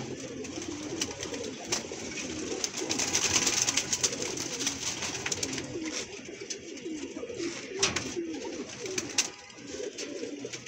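Pigeons in a new loft coo steadily in low, throaty rolls, several birds overlapping at close range with rustling and faint wing movement throughout.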